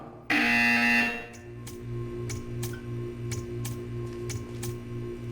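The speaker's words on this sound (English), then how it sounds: "When you hear the buzzer, stare at the art." A loud electronic buzzer in the video game Portal 2 blares for about a second, followed by a humming drone and a run of sharp, evenly spaced ticks.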